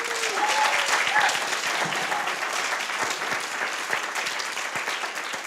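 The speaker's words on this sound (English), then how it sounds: "So a big round of applause for them." A crowd at a family medicine residency graduation applauds continuously, a dense, loud, even wash of clapping from start to finish.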